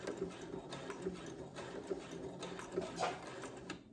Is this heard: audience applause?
no